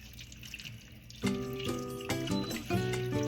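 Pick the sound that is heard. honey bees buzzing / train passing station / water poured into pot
water poured into pot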